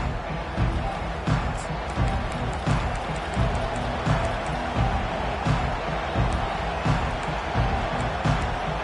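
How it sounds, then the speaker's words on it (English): Stadium crowd cheering and roaring at kickoff of a college football video game, with the Michigan Wolverines kicking off in a loud home stadium; a steady, dense roar with swells continues under play-by-play commentary. "This crowd trying to show them what it's going to be like all day in this house."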